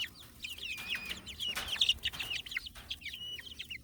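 Backyard chickens, a frizzle among them, clucking and chattering continuously outdoors near a new coop, with overlapping calls from several birds at close range and no talking.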